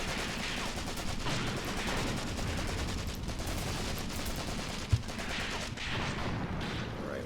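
Mortar and artillery fire in the war game Graviteam Tactics, a steady distant rumble of battle noise with one sharp, brief thump near the end, heard without talking.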